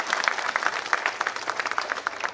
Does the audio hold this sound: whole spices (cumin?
no